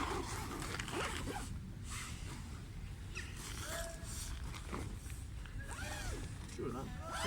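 A Decathlon 4.1 Fresh Black tent's zipper is pulled closed in a few short rasping runs, close and moderately loud, set against steady outdoor background noise.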